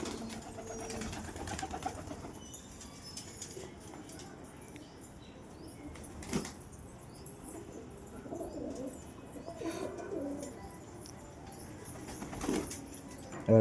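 Pigeons coo softly at a backyard pigeon house, with low, intermittent calls spread through a quiet scene that also carries scattered clinks and rustling and someone talking now and then.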